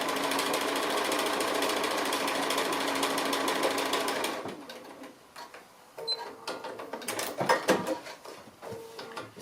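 A sewing machine stitching an appliqué runs in a fast, steady whir for about four seconds, then stops and gives a few shorter, uneven bursts of stitching with pauses between them.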